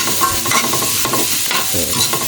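Food sautéing in a hot pan, loud continuous sizzling with rhythmic stirring scrapes throughout, close and without speech.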